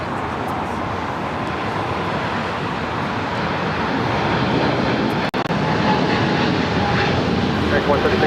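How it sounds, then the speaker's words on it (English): An American Airlines Boeing 777-300ER rolling for takeoff on runway 25 right at LAX, a loud, steady roar of jet engines that builds slightly over several seconds, with traffic-like rumble around it. "We have an American 777 now rolling on 25 right."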